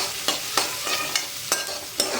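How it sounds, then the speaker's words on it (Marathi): Green chickpea leaves sautéed in a pan over high heat, a constant sizzle punctuated by about six regular scraping stirs of the spatula, close and clear, no voices. "पूर्ण लाल होईपर्यंत परतायचं आहे"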